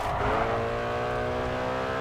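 An Audi RS5 drifting in the racing game GRID 2, its engine holding a steady, buzzing high-revving drone with faint tyre scrub underneath, close and continuous for the whole moment.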